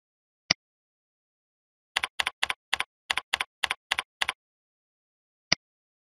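Computer keyboard typing: a single keystroke, then a quick run of about a dozen crisp, close clicks, then one last tap, all against silence.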